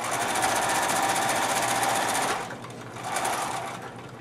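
Sewing machine running a chain stitch along a fabric edge: a loud, steady mechanical whir for about two seconds, then a short pause and a second, softer burst of stitching, close up with no voices.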